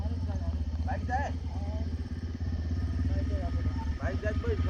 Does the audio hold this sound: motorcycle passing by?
yes